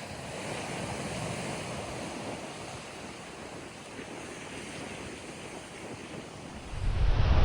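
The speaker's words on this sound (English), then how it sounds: "So this beach is September Beach." Surf washes steadily onto September Beach in Lincoln National Park, a continuous broad roar of waves with some wind buffeting the microphone, swelling louder at the very end.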